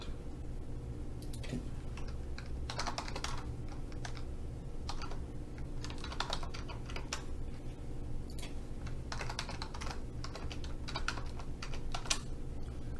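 Computer keyboard keys clicking in irregular bursts as a password is typed, close and fairly quiet over a steady low hum, with no one speaking.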